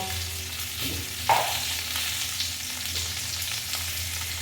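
Raw mango pieces fry in a pan with turmeric and salt for a sweet-sour mango pickle, producing a continuous close sizzle with a brief clink and stirring sounds.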